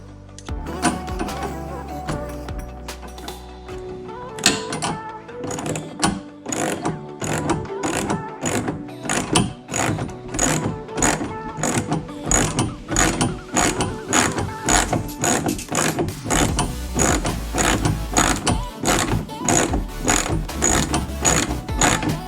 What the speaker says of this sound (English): All we're doing is just kind of tightening up that slack to where it's pulling the two nuts to this plate.